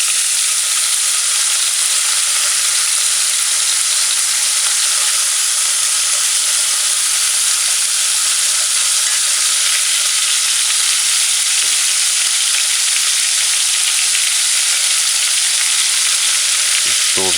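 Bacon and garlic fry in a pan over medium heat for a Jamaican ackee breakfast, giving a loud, unbroken hiss of sizzling fat that stays constant from start to finish.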